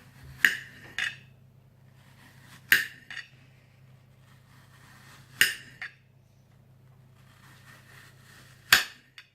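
Apples cut into thin slices for an apple tart make four crisp knife strikes against a board, each with a quick follow-up tap, spaced a few seconds apart over a faint low hum.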